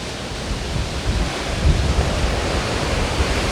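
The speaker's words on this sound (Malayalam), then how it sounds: "വെള്ളം വീഴുന്നുണ്ട് കേട്ടോ" Seawater splashing against a sea wall at high tide on a sunny day, heard as a steady broadband wash with a few louder surges, close by, with no talk over it.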